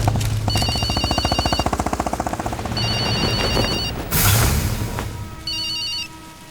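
A mobile phone rings in a tense film scene, a rapid repeating electronic trill in bursts with short gaps, loud and close, followed by a low rumble and other tones.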